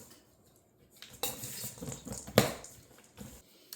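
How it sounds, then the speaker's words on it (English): Chocolate chunks and pecans stirred by hand into a stiff cookie dough, giving a few scraping, clinking bursts of utensil against bowl at close range with quiet pauses between. "And you want to stir those in by hand."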